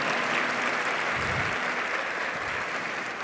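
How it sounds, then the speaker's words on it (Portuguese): A large church festival audience applauds in a dense, sustained wash of clapping that holds steady throughout, loud and close, with no voices standing out. "Pode aplaudir?"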